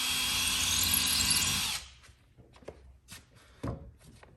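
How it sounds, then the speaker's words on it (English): A power drill with a 1/8 inch bit bores a hole into a wall stud while mounting a floating shelf, a loud steady whine that stops abruptly partway through, followed by faint handling knocks and rustles. "drill a hole in the center of one of those"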